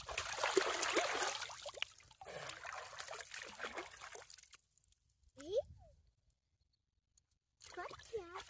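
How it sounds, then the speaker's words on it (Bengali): Water trickles and splashes while a plant is washed, loud and uneven in the first half, then fading out. A sharp clatter and a near-silent gap follow before the sound resumes at the end. "তো এখন গাছটা তো ধুয়ে নিচ্ছে,"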